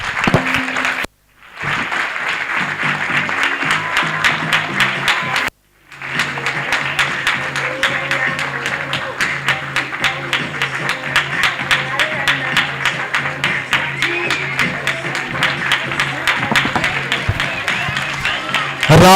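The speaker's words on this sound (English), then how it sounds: "A round of applause." Audience at a meet and greet event applauding: sustained loud clapping from a crowd for most of the stretch, with two brief gaps near the start, and some voices mixed in.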